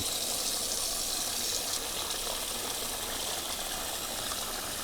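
Tap water gushes steadily into a soup pot of chicken soup ingredients, a loud continuous hiss of filling liquid with no talking.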